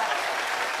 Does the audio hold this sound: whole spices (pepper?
no